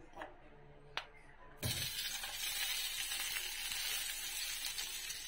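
Fried rice sizzles in oil with garlic in a pan, a quiet tap or two and then a sudden loud, steady hiss of frying that carries on to the end.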